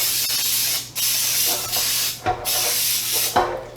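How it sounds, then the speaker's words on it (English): Cooking spray from an aerosol can misting onto a baking pan, in several long hissing bursts separated by brief pauses, close and loud. "And I'm going to spray the pan."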